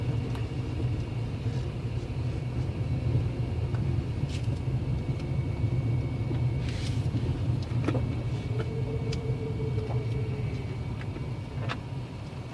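A car drives up a winding hill road in Jamaica between Red Hills and Smokey Vale, with a steady, close engine rumble and road noise that continues throughout and no talk.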